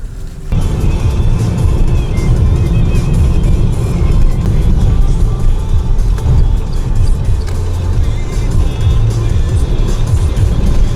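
Renault Zoe electric car driving through a city in winter, a steady loud rumble of road and tyre noise inside the cabin, continuous throughout.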